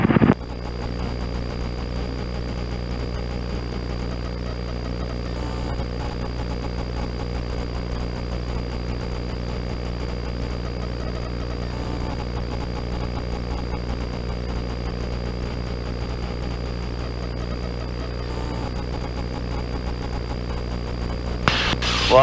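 A steady helicopter engine drone with a constant low hum and tonal whine, heard from inside the cabin during flight, unbroken throughout.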